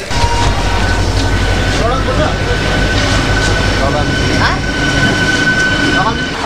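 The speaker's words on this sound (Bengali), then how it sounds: "আমাদের ট্রেন ছাড়লো খড়গপুর স্টেশন" A local passenger train departing Kharagpur station rumbles steadily with low, continuous rolling noise and faint squeals and clatter, heard from inside a carriage gathering speed.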